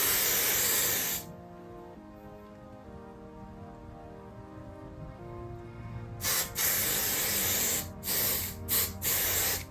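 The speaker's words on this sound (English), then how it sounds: "You're gonna top it off with your Got To Be Glued freezing spray" Got To Be Glued freezing spray misted onto wig edges, a close, loud hissing aerosol burst at the start, then several short sharp spray bursts near the end, with a quiet stretch between.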